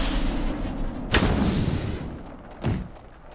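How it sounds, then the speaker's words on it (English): Gunfire in an online multiplayer shooter: two heavy, booming shots about a second and a half apart over a rumbling game background, with no talk. "Uh-oh, I hear gunshots."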